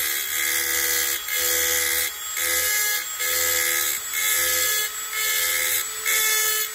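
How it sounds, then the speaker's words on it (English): A file sharpens the teeth of a Stihl HL91K hedge trimmer, each bright, harsh stroke lasting about a second, separated by brief pauses in an even, repeated rhythm, close and loud. "I'll sit here and I'll sharpen every single tooth."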